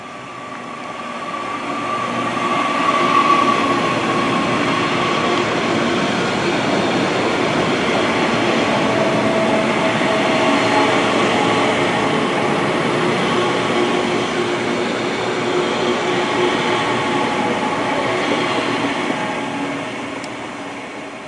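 A train runs steadily through Burnage railway station, a loud sustained rumble with rail noise and faint squealing tones, swelling and holding for about twenty seconds before easing slightly.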